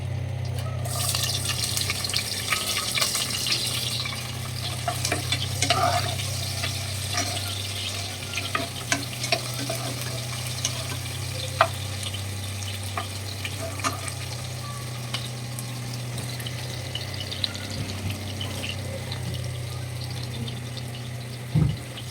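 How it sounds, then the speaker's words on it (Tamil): Curry leaves and sliced onions fry in hot oil in a pan, a steady close sizzle running throughout with scattered scraping and clinking as a spoon stirs them. "ஒரு கைப்பிடி கருவேப்பிலை போட்டுடலாம். கருவேப்பிலை, அப்புறம் நம்ம உரிச்சு வச்சிருந்த வெங்காயத்தையுமே போட்டுடலாம்."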